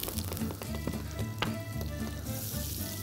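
A cube of butter melts in a pan with a soft, continuous sizzle, broken by small crackling pops and the light scrape of stirring.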